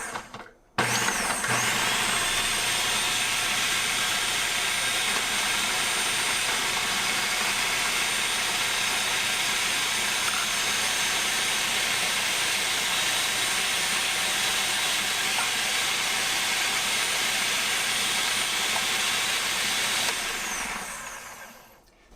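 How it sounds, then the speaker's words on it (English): Cuisinart Elemental 8 Cup food processor running on high as garlic, chili, red onion and cilantro drop through the feed tube, a loud steady whirring motor hum that holds unbroken for about twenty seconds before stopping. "I'll turn the machine on high and put the garlic, chili, red onion, and cilantro through the feed tube"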